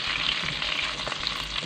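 Chicken pieces lightly frying in a pan for chicken Manchurian, giving a steady close hiss of sizzling oil with faint stirring, and no talking.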